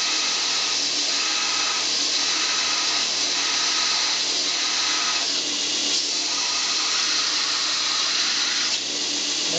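A home-built 2x72 belt grinder grinds metal with a loud, continuous hiss and roar, the rasp swelling slightly in a few places as pressure changes, steady and close throughout.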